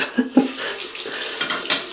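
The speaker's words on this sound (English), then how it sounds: "Right, rinse off cold water." A Merkur Futur double-edge safety razor is rinsed under a running cold tap, with close splashing water and a couple of light metallic knocks against the sink during a brief, busy burst.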